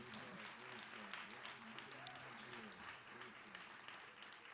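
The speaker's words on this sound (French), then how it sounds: "Nous battons un gros applaudissement encore une fois." An audience at a choir's 15th anniversary celebration applauds with a steady patter of many hands clapping at a moderate distance, while a voice talks over the clapping.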